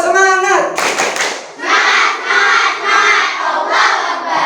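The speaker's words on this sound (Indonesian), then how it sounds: "Ya, biar nggak tegang, kita tepuk semangat." A class doing tepuk semangat, a rhythmic spirit clap in a school lesson: a teacher's voice, then loud bursts of patterned group clapping with children shouting along, repeated in quick sets.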